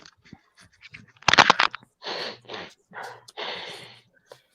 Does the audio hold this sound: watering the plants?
no